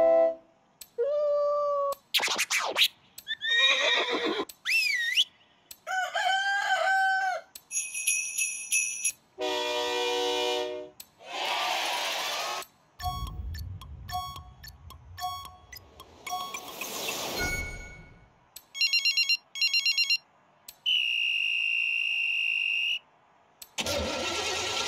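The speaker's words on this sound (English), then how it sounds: "take a listen to some of these sound effect horns" A rapid run of novelty sound-effect car horns from the Forza Horizon 5 racing game, each short and loud, ranging from squeaky and melodic toots to deep blasts and siren-like wails, separated by brief gaps with no talking.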